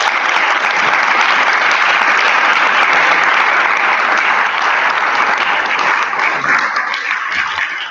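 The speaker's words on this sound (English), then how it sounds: "I now ask that all the candidates rise so we can applaud their commitment and love for this university." Loud, sustained audience applause for student body president debate candidates at Texas A&M, a thick continuous roar of clapping from a large crowd that tapers slightly toward the end.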